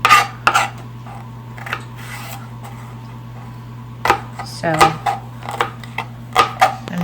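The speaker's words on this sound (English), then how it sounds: "I'm just chopping away with a really bent knife" Knife chopping mushrooms and other filling ingredients on a board with a badly bent kitchen knife, a few sharp knocks early then a burst of quick cuts later, over a steady low hum, with a voice speaking briefly.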